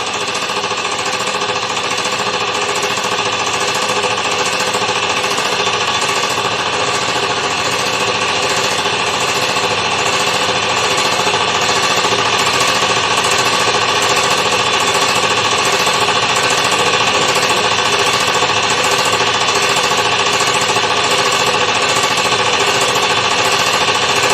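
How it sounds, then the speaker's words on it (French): A steady, loud mechanical drone of a running air compressor, rattling and unchanging throughout with no pauses or voices. "je vais vous épargner ce bruit infernal du compresseur"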